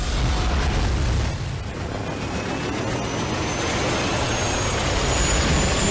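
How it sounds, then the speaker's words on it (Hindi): Ukrainian Mi-8 attack helicopters fly low during an attack, a steady loud roaring engine and rotor wash that swells slightly midway and carries on without pause. "यूक्रेन के Mi-8 अटैक हेलीकॉप्टर्स के हमले का यह वीडियो सामने आया, जहां बेहद कम ऊंचाई पर कैसे उड़ान भरते ये नजर आया।"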